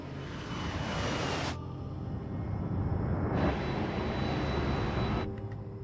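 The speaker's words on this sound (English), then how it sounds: "At the world's busiest airports, aircraft can take off or land every 60 seconds." Aircraft engines at a busy airport with planes taking off and landing: a steady, loud broadband roar that swells and eases over a few seconds, with no talking.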